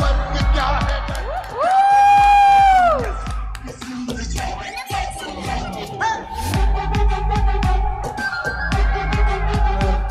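A lively crowd of students at an indoor meetup welcomes a physics teacher with loud whoops, yells and sustained cheering, in rising and falling bursts that fill the room from start to finish.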